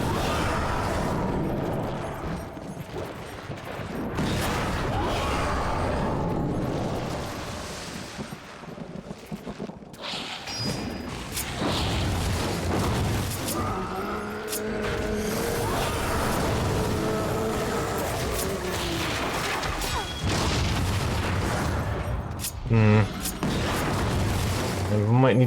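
Darksiders 2 gameplay explosions: repeated booming blasts and bursts of gunfire-like crackle, dense and loud over a continuous rumbling mix, with talk over the top.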